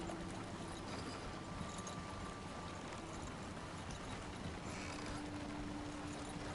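Horse hooves clip-clop steadily in Red Dead Redemption 2 Online as the horse travels along a route, a soft, continuous rhythm under a faint background hum with a low tone, no talking.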